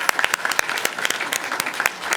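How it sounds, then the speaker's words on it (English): A city council meeting audience gives a big round of applause, brisk scattered handclaps close and steady through the short stretch, with no voices over it. "Let's give them a big round of applause and thank them."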